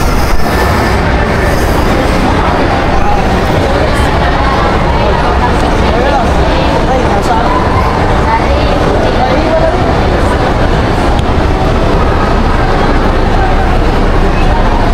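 A train clatters steadily along the rails with a loud, continuous rumble and faint rhythmic clicks, heard from inside.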